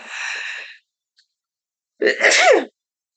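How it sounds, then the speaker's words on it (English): A sharp sneeze bursts out after a short breath in, the two sounds separated by a second of silence; close and fairly loud. "So I gotta sneeze."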